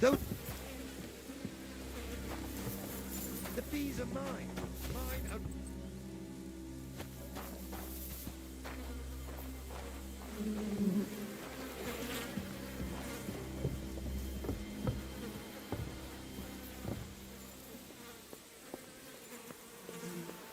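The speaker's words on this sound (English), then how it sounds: "Those are my bees!" Bees swarm in Kingdom Come: Deliverance II, a persistent insect buzz that swells and wavers close by over a low hum, with footsteps and a few scattered clicks mixed in.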